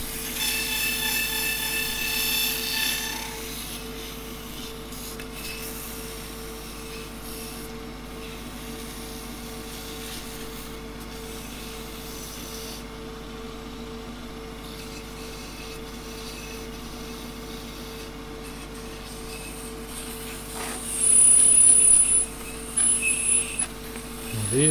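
A wooden salt scoop is sanded on a lathe with 240-grit abrasive, giving a steady soft whirring rub that runs throughout, with a brief louder scraping burst near the end.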